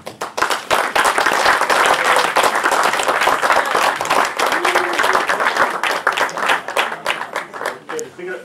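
A loud, dense audience claps continuously throughout, with cheering voices mixed into the steady applause.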